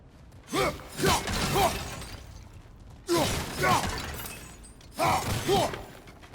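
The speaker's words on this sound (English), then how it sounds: "back to smashing through things for fun and profit." Objects shatter in God of War Ragnarök, with three separate bursts of crashing and breaking debris. Each burst is mixed with short effortful grunts and rings out over a low background.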